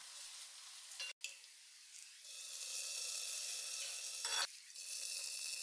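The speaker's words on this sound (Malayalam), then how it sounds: "ഇനിയിപ്പോൾ നമുക്ക് വെളിച്ചെണ്ണയിൽ ചെറിയ ഉള്ളി അത് വഴറ്റിയിടാം." Small onions sauté in coconut oil with a bright, hissing sizzle that swells after a brief cut-out, interrupted by a short dip midway, heard close and fairly soft.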